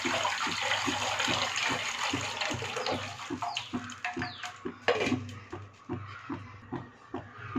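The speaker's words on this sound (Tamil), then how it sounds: "இன்னும் கொஞ்சம் தண்ணி சேர்த்திக்கலாம்" Water splashes and pours into a pot of thuthuvalai leaf rasam, a steady rushing stream that breaks into irregular splashes and gurgles partway through, close and fairly loud.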